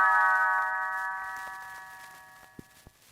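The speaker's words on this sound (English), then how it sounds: "You will know it is time to turn the page when Tinker Bell rings her little bells like" Tinker Bell's bright chime of little bells rings out as a page-turn signal, a shimmering tone that slowly fades, followed by a couple of small soft knocks.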